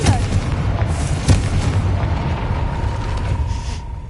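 Confringo fire spell from Hogwarts Legacy going off as a loud booming blast near the start, followed by a sustained rumbling roar that slowly fades.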